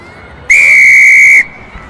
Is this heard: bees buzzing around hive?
no